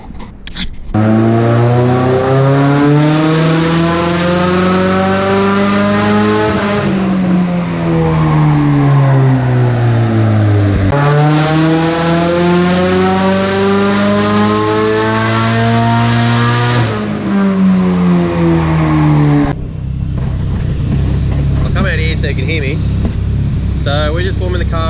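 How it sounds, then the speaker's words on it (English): A big-turbo Nissan S14 drift car with an SR20 engine revs loudly and close, rising and falling in two long sweeping pulls before dropping back to a rough idle. "So we're just warming the car up, going through his thing, checking everything."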